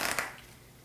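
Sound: cutting a deck of playing cards

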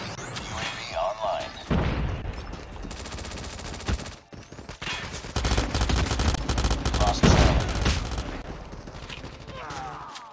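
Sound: gunfire from Pharo gun in video game COD Mobile

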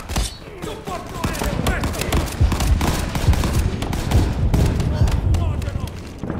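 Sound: gunfire in World War 2 video game

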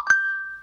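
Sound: phone notification ding

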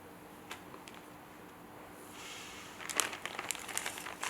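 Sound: plastic bag crinkling

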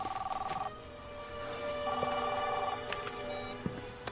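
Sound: telephone ringing

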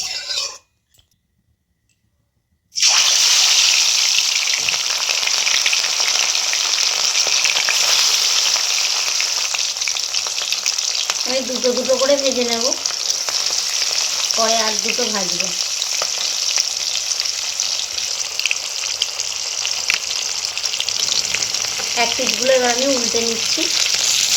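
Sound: rohu fish frying in hot mustard oil

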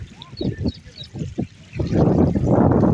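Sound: flood water flowing over a closed road

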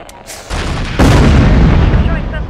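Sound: gunfire and explosions in the MechCommander video game

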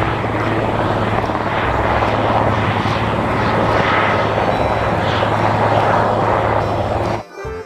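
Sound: toy helicopter sound

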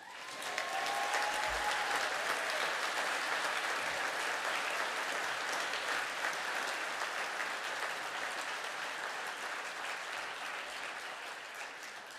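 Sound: round of applause at graduation ceremony

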